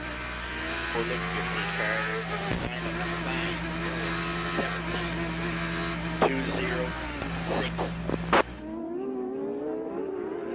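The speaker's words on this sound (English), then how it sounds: "Heavy braking here for turn number 6." A 1997 Indy race car at the Long Beach street circuit braking hard into a turn, its engine droning loudly and steadily, then cutting off sharply near the end.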